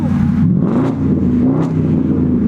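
A loud, close BMW 645Ci engine with a custom kit rumbles and revs, its pitch rising and falling in a deep steady growl with no speech.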